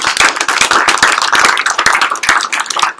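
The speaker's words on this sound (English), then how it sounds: "let's give them another clap" An audience claps steadily and densely for about three seconds, a full round of applause with no voices over it.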